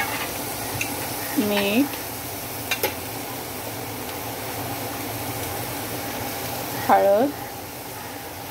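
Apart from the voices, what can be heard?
sautéing cowpeas with chili powder, salt and turmeric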